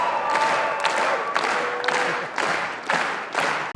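An audience at a Cannes film screening applauds, producing dense sustained clapping that swells in rhythmic waves and carries a few cheers.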